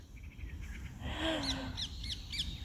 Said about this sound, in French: Ah, petit oiseau.